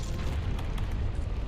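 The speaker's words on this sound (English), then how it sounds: "It makes different versions of explosions, pretty much" Gunlance shelling explosions in Monster Hunter World blast in a dense, rumbling burst, deep and continuous with crackling pops throughout, loud and close.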